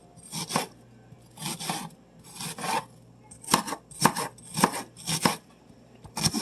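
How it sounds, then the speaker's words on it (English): A kitchen knife chops through half a peeled onion on a cutting board in short bursts of quick, crisp strokes, about nine clusters in a steady rhythm, close and clear with no speech. "Let's get this onion cut."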